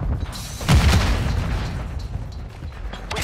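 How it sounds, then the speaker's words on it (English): A grenade blast in Call of Duty: Modern Warfare II team deathmatch, a deep boom with a low rumbling tail that settles into continuous battle noise. "Grenade out!"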